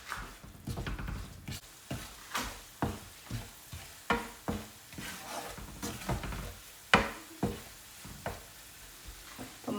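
Chili powder and ground spices for mango pickle being stirred as they heat in a pan, with a rhythmic series of sharp scraping strokes, about two per second, over a soft background sizzle.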